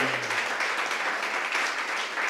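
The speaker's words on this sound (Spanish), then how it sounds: "Amén, mis hermanos, en un aplauso al Señor." Applause from a church congregation after a sermon, a steady wash of many hands clapping throughout at moderate loudness, without a clear pause.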